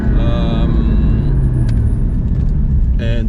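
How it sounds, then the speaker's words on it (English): Porsche 981 GT4 with a carbon fiber intake, a loud low exhaust rumble while driving that stays continuous, with a few brief tonal swells as the revs shift. "So also the exhaust sound is different, like less flaps, less change in sound regarding the RPM and stuff like this."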